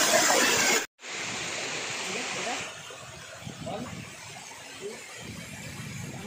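Water streams down the stone steps at the foot of Korigad fort, a steady broadband rush with a brief dropout early on, continuing under faint scattered sounds.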